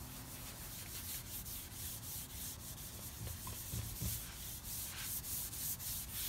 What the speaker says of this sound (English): I'm gonna rub that wax really well into the grain.